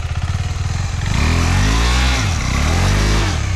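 A KTM Adventure 390 motorcycle revs hard in deep beach sand as its wheel spins. The loud, close engine starts pulsing and then climbs into a sustained, wavering roar.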